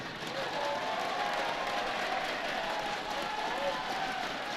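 Crowd at a unified sports basketball championship making noise during player introductions, a dense, steady wash of cheering and clapping from packed stands, with faint announcer-like voice tones under it.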